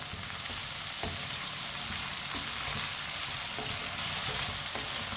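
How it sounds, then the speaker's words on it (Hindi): Okra frying in a pan and stirred with a spoon over medium heat, giving a continuous close sizzle and crackle with a few soft scrapes and taps, no talking. "अब भिंडियों को हल्का सा ब्राउन कर लेंगे। ऐसे ही चम्मच लाते हुए चूल्हे की आंच को मीडियम रखना है।"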